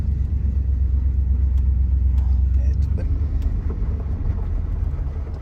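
An old Chevy farm truck drives along with a steady, loud low engine rumble and road noise from inside the cab, holding fairly constant throughout.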